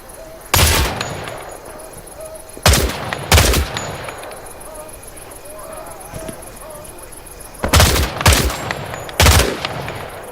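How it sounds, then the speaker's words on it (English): Gunfire in the Vietnam-era shooter game Hell Let Loose Vietnam: sharp, loud rifle shots in irregular pairs against a steady insect-like chirping background, no talking. "Shoot the targets ahead, aiming for the helmet to guarantee an instant kill."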